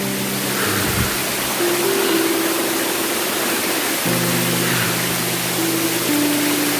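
A waterfall at Raikal rushes with a dense, steady broadband roar, close and constant, while background music plays over it.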